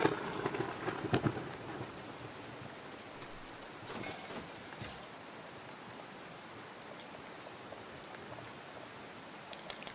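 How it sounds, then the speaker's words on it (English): Steady rain hissing across surfaces during a thunderstorm in the video game Outbound, with a brief louder burst of rumble near the start and a faint distant thunder roll later, constant and fairly quiet throughout. "That's my first thunderstorm in this game."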